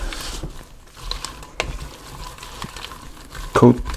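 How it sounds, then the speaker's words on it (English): Onions cook in oil in a pan on medium heat for hot dog onion sauce, making a soft sizzle with scattered spoon scrapes and a louder clank near the end, close. "coat the onions with all that oil that's on the bottom. I'm going to start on a medium heat"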